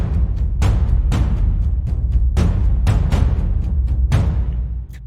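A drum kit plays a groove with its accents moved onto different hits, giving a steady, punchy pattern of loud strikes over continuous low thumping that runs close and busy for several seconds.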